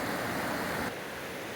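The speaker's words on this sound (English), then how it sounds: "Here's the creek or river, whichever one it is, going down in at the bridge" A creek flowing under the bridge at the Joyce Kilmer Memorial Forest entrance, a dense steady rush of water heard close and alone, softening slightly partway through.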